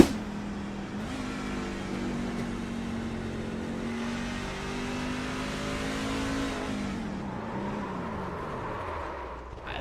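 Onboard a race car at Phoenix Speedway, the engine drones loud and close with steady harmonic tones, then the revs fall away in a long descending pitch as the car slows near the end.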